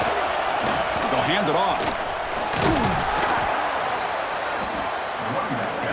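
Big roaring stadium crowd at a Georgia vs Michigan college football game, a loud sustained wash of cheering and noise as the defense faces a red zone play, with a commentator talking over it.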